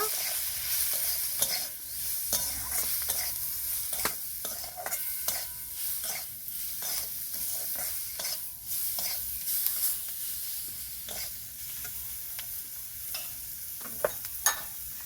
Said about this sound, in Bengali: দু চামচ দিয়ে দেবো হলুদ গুঁড়ো ভালো করে মিক্স করে নেব